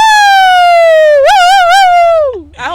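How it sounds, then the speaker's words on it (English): A loud, close siren wails alone with a strong steady tone, rising into quick wavering warbles, then sweeping down and cutting off, with a brief burst of noise at the end. "I hope y'all heard of that siren."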